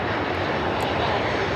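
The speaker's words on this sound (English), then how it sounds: "The Alaska 737 up next for arrival, 24 right" An Alaska Airlines Boeing 737 arriving on runway 24 right at LAX, heard as a brief, steady, loud jet engine roar with no pauses.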